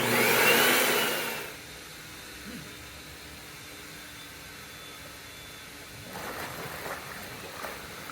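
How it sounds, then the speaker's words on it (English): A blower forces air through a swimming pool's main drain line during pool closing and winterizing, giving a loud broadband rush that drops off after about a second and a half, followed by quiet and a softer gurgling burst near the end. "We're gonna blow out the main drain first."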